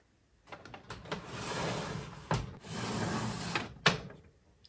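A plastic makeup drawer for lip products slid open and shut a couple of times, giving smooth rolling scrapes punctuated by sharp clacks, close and fairly quiet.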